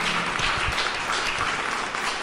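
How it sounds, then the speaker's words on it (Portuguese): A church congregation applauds with dense, continuous clapping that stays strong from start to finish, no voices over it. "Se é para Jesus, vamos aplaudir mais fortes, amados."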